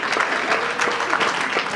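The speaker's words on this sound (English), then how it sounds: "Let's clap our hands for the India man there" Church congregation clapping hands during a Sunday service, a steady, dense round of applause filling the room without a break.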